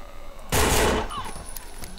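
A shotgun blast in the zombie video game No More Room In Hell, one loud broad burst with a short decaying tail, heard up close.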